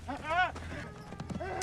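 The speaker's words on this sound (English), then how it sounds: "Oh, he's freeing his horses." Horses run in the 1990 film Dances with Wolves, their hoofbeats clip-clopping under and between excited talking, which is prominent at the start of the short excerpt.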